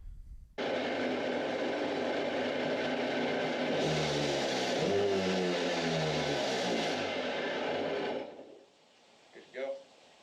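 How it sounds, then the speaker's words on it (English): A restored jet ski engine fires up abruptly and runs with a loud, steady rumbling drone for about eight seconds, then cuts out, leaving only a few faint knocks. "we're going to see if this thing starts"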